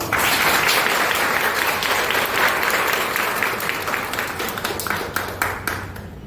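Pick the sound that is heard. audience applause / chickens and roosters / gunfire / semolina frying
audience applause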